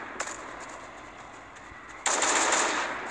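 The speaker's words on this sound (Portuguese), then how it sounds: "Tem um palhaço ali me atirando" Bursts of gunfire from a clown enemy in the zombie survival game Last Day on Earth, with a short shot near the start and then a loud, sustained burst of rapid machine-gun fire over the final second, nobody talking.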